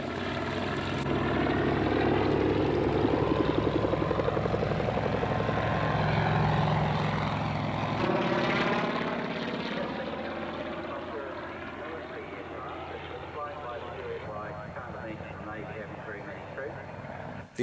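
A Sikorsky S-55 helicopter with a nose-mounted Pratt & Whitney engine flies past at an airshow, a loud continuous engine drone and rotor beat that swells and then eases slightly as it moves away, with a voice talking over it.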